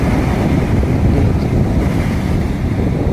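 Rough sea waves at Someshwar beach in the rainy season, a loud, steady roar of surf with heavy wind buffeting the microphone throughout, no voices.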